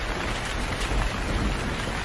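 Steady rain falling, a dense, even hiss of drops pattering on surfaces, continuous and fairly loud with no voices.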